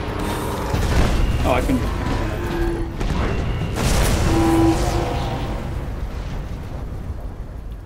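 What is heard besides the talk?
explosions in the video game Destiny: House of Wolves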